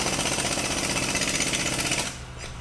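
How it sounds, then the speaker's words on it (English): A jackhammer pounds away in a steady, loud, dense rattle for about two seconds, then cuts off abruptly, leaving only a faint low remainder. "have a jackhammer at work"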